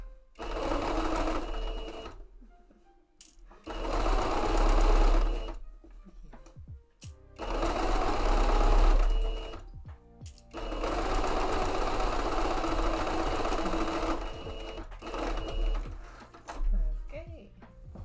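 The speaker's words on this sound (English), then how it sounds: "Now we have a loud sewing machine" A loud sewing machine stitching fabric for shorts and hat mock-ups, running in several bursts of a few seconds each with short pauses and small clicks and handling noises in between.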